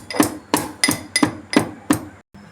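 Garlic and ginger are pounded into a paste, with six evenly spaced sharp thuds from a close-by pestle or mallet striking, then a short pause, heard alone without speech.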